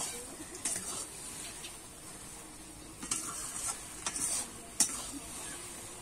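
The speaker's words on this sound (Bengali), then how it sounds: "এইবারে কিন্তু ভালো করে আমি নাড়িয়ে চাড়িয়ে বেশ কিছুক্ষণ ধরে একটুখানি মানে মিনিট খানিক মতো কিন্তু এইভাবে নাড়িয়ে চাড়িয়ে নামিয়ে নেব" Taro leaves cooked with prawns are stirred in a pan, a soft steady sizzle running throughout with a few sharper scraping knocks of the spoon at irregular moments.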